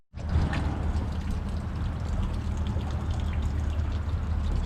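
Steady, heavy rain pours down without letup, a dense close hiss of drops drumming on surfaces around a sheltered spot at a jet ski racing shop.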